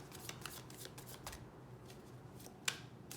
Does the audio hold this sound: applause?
no